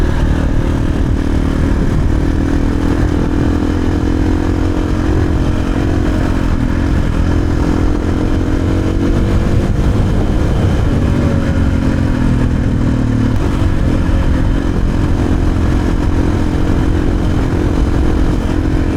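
A motorcycle fitted with a GET ECU from Taco Moto is ridden hard, its engine roaring loud and close with continuous revving and throttle swells throughout, blended with wind rush.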